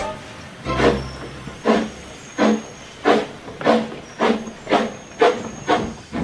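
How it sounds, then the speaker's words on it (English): Steam locomotive Gordon in the Trainz railway simulator puffing steadily, eight loud rhythmic chuffs of hissing exhaust evenly spaced, with a low rumble at the start. "He puffed grandly towards the station."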